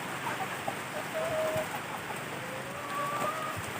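Chickens cluck and call faintly at a distance on a farm, with steady rain hissing across the whole scene.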